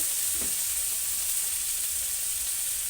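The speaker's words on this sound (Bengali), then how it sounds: "টমেটোগুলো কেটে রেখেছি, সেগুলো দিয়ে নাড়াচাড়া করে নেব।" Chopped tomatoes frying in a pan with a steady, even hiss of sizzling, close, with only a faint stir near the start and no voices.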